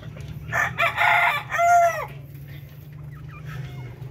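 Old breeder chickens crowing and clucking in a poultry pen, one loud, close crow rising and falling over steady low background hum, followed by fainter clucks.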